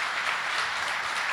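Church congregation applauding during a Spanish-language service, a steady bright wash of many hands clapping together, loud and continuous.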